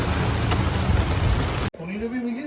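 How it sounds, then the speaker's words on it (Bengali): Heavy pouring rain drums loudly and steadily up close for most of the moment, then cuts off abruptly as a quieter indoor scene with a voice begins. "বেরোলাম আর ঝমঝমিয়ে বৃষ্টি।"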